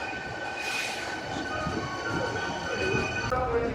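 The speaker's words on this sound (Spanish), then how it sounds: "Ahí pasó el tren" A Hankyu train passing near a station in Kyoto, a steady loud rumble of rolling rail cars with whining tones and metallic wheel squeal toward the end.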